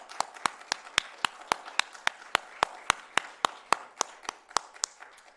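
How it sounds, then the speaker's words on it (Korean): A congregation claps in thanks during an Easter Sunday worship service at a Korean church: crisp, evenly timed claps in a brisk steady rhythm that continues unbroken throughout, with no voices over it. "큰 감사의 박수 한번 올려드리겠습니다."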